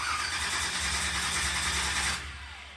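The engine of the Swamp Thing vehicle cranks over with the ignition off, a loud, close, continuous whirring drone lasting about two seconds before it cuts out abruptly.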